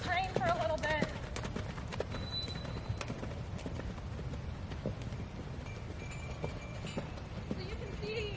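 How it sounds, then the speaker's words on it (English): A horse lopes on a loose rein in a snaffle bit, its hoofbeats a steady, rhythmic three-beat clip-clop. The hooves are moderately close, with a brief voice-like sound near the start. "Now we're just gonna lope around on loose rein for a little bit."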